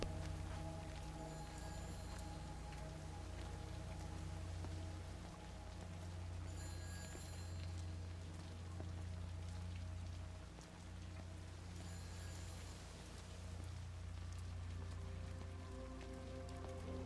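Steady rain pours down across a rural English village in the game Everybody's Gone to the Rapture, a dense continuous hiss of drops on surfaces with a low ambient hum beneath, unbroken from start to finish.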